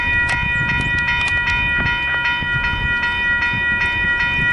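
A train rolls past a railroad crossing on a windy day while the crossing bells ring in a steady repeating pattern over the loud rumble and clatter of the cars.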